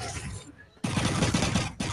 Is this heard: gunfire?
yes